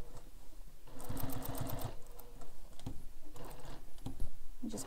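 A sewing machine stitches slowly around curves on a carryall bag, running in short bursts with pauses for pivoting, mostly a quiet rapid ticking from single stitches taken one at a time.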